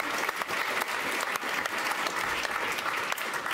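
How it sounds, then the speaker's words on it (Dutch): An audience gives warm applause at a final Amsterdam municipal election debate between party leaders, a steady, dense wash of clapping from a large crowd with no letup across the whole stretch. "Geef ze een warm applaus."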